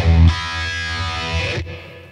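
Electric guitar through a Peavey Vypyr Tube 60 amp with a touch of reverb, a sharp strummed chord ringing out steadily for about a second and a half before cutting to a short reverb tail.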